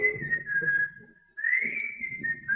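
A person whistles a wavering tune, close and clear, with a short pause in the middle before the melody resumes.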